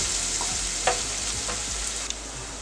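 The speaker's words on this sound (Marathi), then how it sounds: "हिरवी मिरची, कढीपत्ता चांगलं परतून घेऊया" Green chillies and curry leaves sautéing in a pan for vermicelli upma, giving a steady close sizzle with a few light spatula taps and scrapes, no voices.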